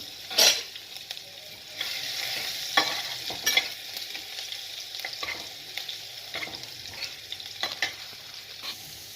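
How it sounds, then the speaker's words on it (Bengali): Steady crackling sizzle of chopped onion frying in a pan, with occasional louder scrapes and stirring clatters throughout, no voices. "পেঁয়াজটা ভাজা হয়ে গেছে"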